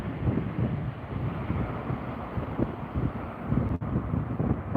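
Sea wind gusting straight into a fishing bivvy on the shore, buffeting the microphone with heavy low rumbling blasts that rise and fall, loud and close, without speech.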